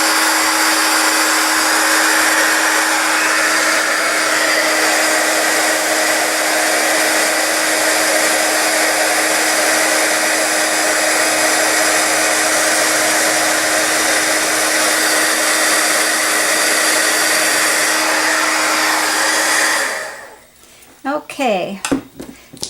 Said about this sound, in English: We'll get our heat tool, let it warm up for just a second